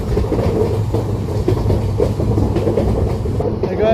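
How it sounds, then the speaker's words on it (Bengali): The Kolkata–Sairang Express runs toward a tunnel, its wheels clattering in a loud, steady clickety-clack rhythm close by, with a voice briefly heard over the din. "টানেলের মধ্যে ট্রেনটা প্রবেশ করবে দেখো।"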